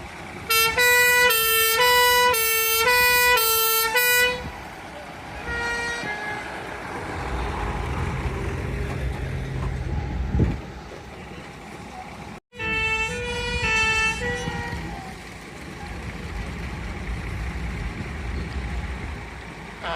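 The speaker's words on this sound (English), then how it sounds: "that's followed by another fire engine, a 1975 Dennis D vintage fire engine." A 1975 Dennis D vintage fire engine passes at a steam rally, its two-tone siren blaring loud and close at first, then fading into a rumbling engine and crowd bustle before the siren briefly returns further off.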